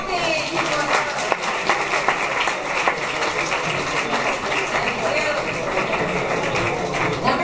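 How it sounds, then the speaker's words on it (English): A room audience claps for an international student, a dense patter of many hands at moderate distance with voices mixed in. "Clapping for her."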